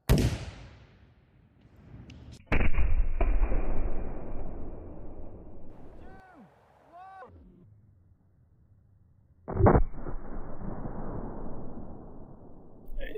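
A launcher fires in a sharp blast, followed by a second boom and a long rumbling decay, with faint sweeping whines between the blasts.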